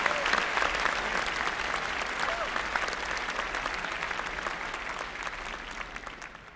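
Steady, loud applause from an audience at a university postgraduate graduation ceremony for medicine and natural sciences, dense clapping sustained throughout and tapering slightly at the end.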